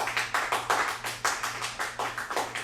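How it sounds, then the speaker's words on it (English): Claps ring out at a game show taping, a fairly regular series of individual, sharp hand claps about every quarter second, close and moderately loud, sounding like just a few people rather than a large crowd. "let's give that a round of applause"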